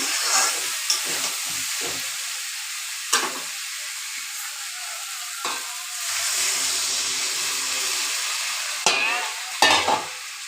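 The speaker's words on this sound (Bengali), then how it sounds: "এতিয়া মই আমাৰ আন্দাজত পানী দিম" Mixed vegetables frying in a pan for a five-vegetable sabji, with water added, a loud steamy hiss and sizzle punctuated by a few sharp clanks and scrapes of a utensil, close and alone.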